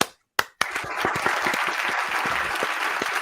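Applause from a small group breaks out after a couple of sharp claps, settling into steady close clapping that continues to the end without talk.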